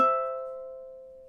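A single ukulele note or chord from measure 16 of a song rings out clearly and decays slowly over about a second, alone with no talk.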